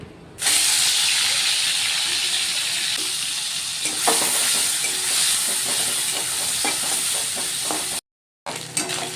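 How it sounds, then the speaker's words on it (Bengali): Shrimp drop into hot oil in a wok and sizzle loudly and steadily, a dense hissing fry with a brief break near the end. "তেল গরম হয়ে গেছে, এবার চিংড়ি মাছগুলো দিয়ে দেবো।"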